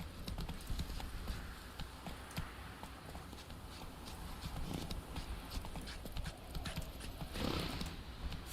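Hooves of Roach, the horse in The Witcher 3, in a steady clip-clop gait, moderately close, under a continuous game ambience with no talk.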